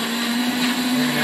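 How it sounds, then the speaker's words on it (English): A blender whirs steadily as it purees tomatoes, a close, continuous motor hum with a bright, even whine and no voices. "I just want these tomatoes to go in the blender."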